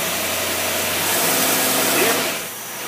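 A Jeep engine fitted with a two-barrel carburetor revs up, its broad rushing roar swelling as the power valve opens and then easing off near the end.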